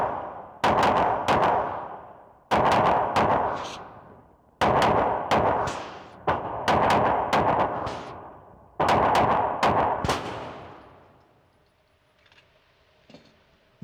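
Oracle Arms 2311 pistol fired at a gun range in five quick strings of several loud, sharp shots each, separated by short pauses, with the reports ringing out close by before a quiet tail.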